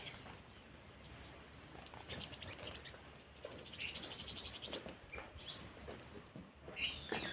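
Sparrows chirp in short, high bursts at scattered moments over quiet background rustle, moderately close.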